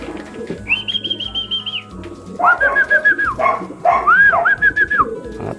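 Pigeons coo in a loft in several repeated, warbling phrases, close and fairly loud, over a low background rumble.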